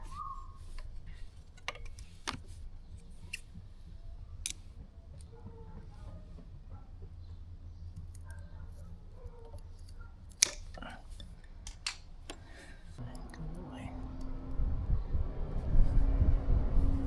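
Scissors trim a motorcycle fuel line on a KTM 690 auxiliary tank install, giving a series of sharp, quiet snips spread out over a quiet workshop, then a louder rumbling hum at the end.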